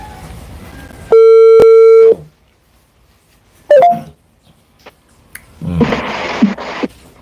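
A telephone keypad sounds a long steady dialing tone with a brief beep, followed later by short electronic tones and a burst of noisy line sound, with no talking over it.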